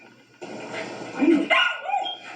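A COVID-sniffing detection dog gives a couple of loud, close barks and yips over a steady background, following a short quiet lead-in.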